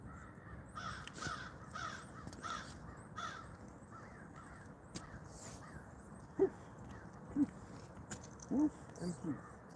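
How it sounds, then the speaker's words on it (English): Crows caw outdoors in a wintry fishing spot by a trout stream, several distant harsh calls scattered among faint background noise, with a few sharper nearer caws toward the end. "Most of these crows just hang out and laugh at me the whole time."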